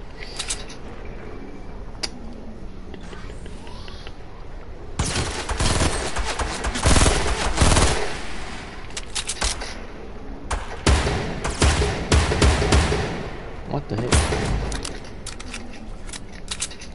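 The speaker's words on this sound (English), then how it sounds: "You tried shooting me with a shotgun from that far." Video game gunfire, including shotgun blasts, bursts out in dense volleys of loud, sharp cracks after a quieter stretch, with clusters of rapid shots repeating through the middle and later parts.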